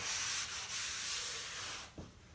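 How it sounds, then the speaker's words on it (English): A screed drags across the sloped mortar mudbed of a shower floor, making a close, gritty scraping rasp that runs for about two seconds before a brief knock at the end. "You can drag your screed along that slope"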